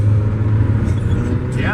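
A car rolls along the road with a steady, loud engine drone and tyre rumble heard from inside, while someone talks over it.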